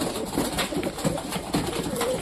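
Pigeons cooing nearby as the flock is let out to fly, soft repeated low coos over a busy outdoor background, with faint voices mixed in.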